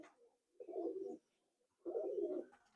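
Madrasi Giribaz and Malwai pigeons coo in two close, fairly soft bursts of about half a second each, separated by a short pause, with no voices.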